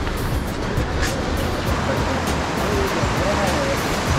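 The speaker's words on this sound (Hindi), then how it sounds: "पानी का बहाव भी तेज है" Fast-flowing water rushing steadily in Bahrain, a dense, continuous outdoor roar close by with no break across the whole stretch, no voices over it.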